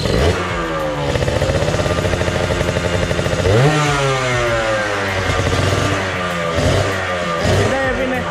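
Two-stroke motorcycle engine revving at a motorcycle detailing workshop, close and loud, with rising and falling throttle blips over a rattling idle.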